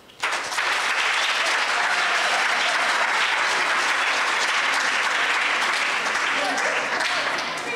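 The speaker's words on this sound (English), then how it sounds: "You all deserve a round of applause." An audience applauds debate teams at an English-language debate final, a dense, sustained round of clapping that begins abruptly and continues loudly and evenly throughout.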